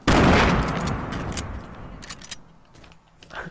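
Gunfire in Fortnite opens with a loud, dense burst that fades into scattered shots and mechanical clicks over a few seconds.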